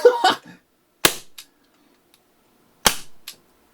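Umarex Legends Mauser C96 CO2 blowback airsoft pistol firing, with three sharp, loud cracks spaced about a second apart, each followed by a brief mechanical clack of the blowback slide, close up.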